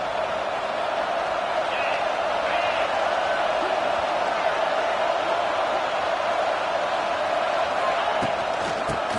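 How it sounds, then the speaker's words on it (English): A home crowd roars loudly and steadily throughout a college football game between Texas Tech and Oklahoma, a dense, sustained wash of cheering with no pauses. "how nice is it to have the home crowd going absolutely bananas?"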